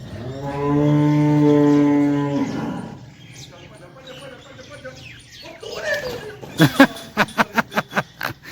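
A cow gives one long, loud, close moo lasting about two seconds. Mixed farmyard noise and voices follow, and then a quick run of sharp, rhythmic sounds near the end.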